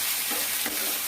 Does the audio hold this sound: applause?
no